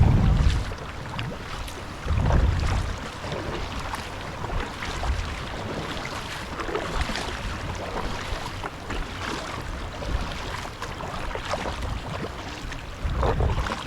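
Water slaps and splashes steadily against a kayak's hull as it rides over choppy boat wake on Lake Havasu, with wind rushing across the microphone throughout.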